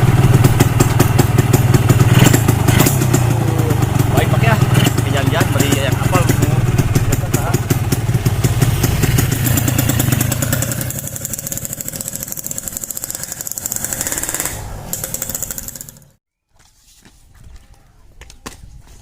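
A motorcycle engine runs with a steady idling rumble under continuous chatter, then cuts out abruptly near the end, leaving brief near-silence.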